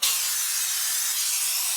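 Great Stuff foam sealant hisses steadily from an upside-down can with a cone tip as it seals cracks and leak spots in a crawl space, one continuous close spray with no pauses.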